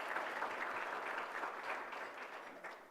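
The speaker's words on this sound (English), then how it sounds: "Again, a round of applause," A crowd at a city's State of the City address gives a steady round of applause, a dense, moderately loud patter of clapping that holds evenly and tapers slightly toward the end, with no talking.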